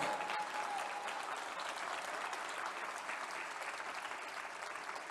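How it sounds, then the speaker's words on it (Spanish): A Spanish-speaking church congregation claps continuously during a sermon, a dense, even roar of many hands at moderate level with no break. "Ese aplauso está flojo, por favor."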